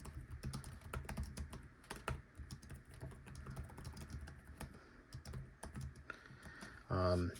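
Rapid keystrokes on a Lenovo ThinkPad L14 Gen 5 laptop keyboard, a steady close clatter of short clicks with a louder, denser burst near the end.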